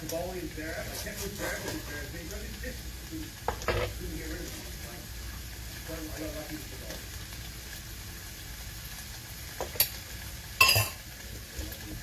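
Food stirred and fried in a pan on a stove over low heat, giving a soft continuous sizzle with occasional scraping and clinks of a utensil against the pan, heard under nearby talk.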